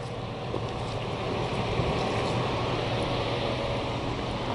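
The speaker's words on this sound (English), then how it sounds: "All right, this is some hail." Hail pelting a car and the road while driving through a hailstorm in Helper, Utah, a dense, continuous rattling roar with scattered sharper impacts, loud and close throughout.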